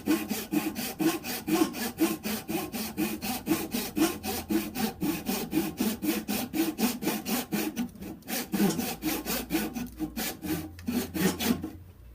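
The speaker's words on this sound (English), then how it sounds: "I'm going to hit the rest of it with a saw." A hand saw rasps through the remaining eighth of an inch of a part in a workshop, with fast, regular back-and-forth strokes heard up close. The strokes pause briefly near the end, then resume.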